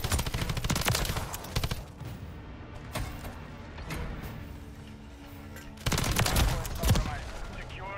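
Kastov LSW light machine gun fire in Modern Warfare 3 comes in loud sustained bursts at the start and again near the end, with a quieter stretch of game sound between them.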